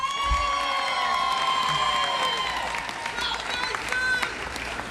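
Audience applause and cheering at a Hartford primary-night gathering honouring city officials, a steady crowd roar with clapping and some shouts and whistles filling the whole stretch, with voices mixed in.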